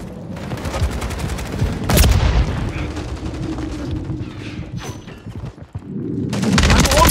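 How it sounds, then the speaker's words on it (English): Sharp explosive bursts and crackling gunfire from a Call of Duty Modern Warfare 3 multiplayer match, with a loud blast near the start and a grenade detonation amid continuous battle noise, game voices and rattling weapons. "grenade!"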